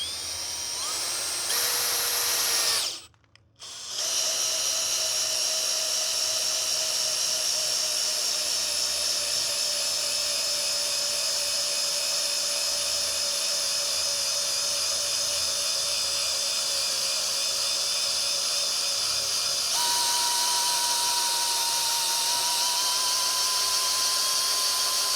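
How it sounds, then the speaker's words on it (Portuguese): A Makita or Hanabi cordless drill driver in drilling mode without impact bores through dry wood, giving a loud, sustained high motor whine close by, with a brief pause early on and a shift in pitch as the bit breaks through. "será que essa parafusadeira vai furar?"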